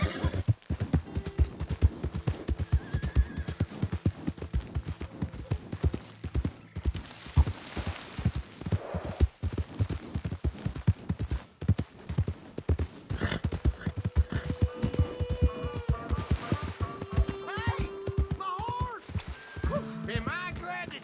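A horse in the video game Red Dead Redemption 2 clip-clops along at a steady rhythmic walk, with an occasional neigh and whinny over the hoofbeats, alongside game music and other ambient game sounds.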